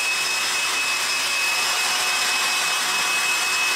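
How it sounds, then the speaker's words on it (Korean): A small hair dryer bought for drying a dog's paws runs on hair at a summer campsite, a steady loud whooshing roar with a high whine that holds unchanged throughout, close to the listener, with no voices. "드라이기로 머리를 말렸는데 너무 오래 걸려."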